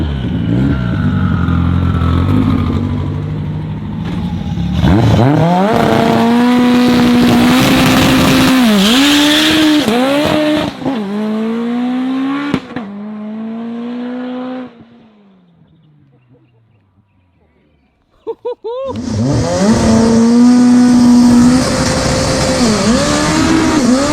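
A 1300 hp K20-powered Honda Civic launching hard, the engine held at high revs and then roaring up through gears with loud, close rising wails, a lift-off dip and brief quiet, then another full-throttle pull.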